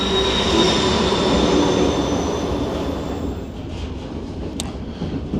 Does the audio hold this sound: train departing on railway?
yes